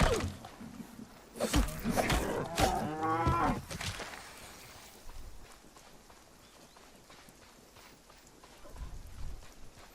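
A cow in the video game Runescape Dragon Wilds gives a long, fairly loud moo early on, then softer game ambience follows with faint footsteps and rustling, no talk.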